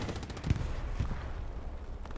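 Faint gunfire in a video game battle as a Panzer IV tank is fired on by guns, with a couple of sharp shots standing out from a steady background rumble of combat.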